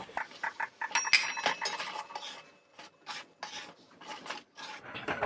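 Flour being worked into cooked, nearly dry mung dal in a pan: repeated scraping and rasping strokes of a utensil against the pan in an uneven rhythm, close and soft, with no voices.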